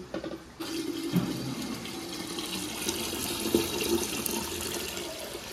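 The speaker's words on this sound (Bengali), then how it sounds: "এবারে দিয়ে দেবো জল" Water poured into a cooking pot of salted, turmeric-seasoned food, heard as a sudden start followed by a steady, close rushing splash that continues to the end without speech.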